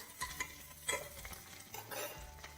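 Small onions sautéing in a pan for a kovakkai stir-fry, with a soft, quiet sizzle broken by several brief bursts of spatula stirring and scraping.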